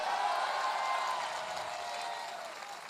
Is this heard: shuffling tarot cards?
no